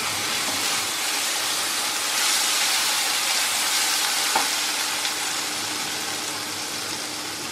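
Spice paste for a vegetarian soyabean curry sizzles steadily in a hot pan, a loud, even frying hiss with no talking.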